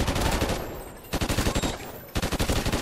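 Rapid automatic gunfire from a Call of Duty: Ghosts online match, loud and nearly continuous in dense bursts with two brief pauses, no talking over it.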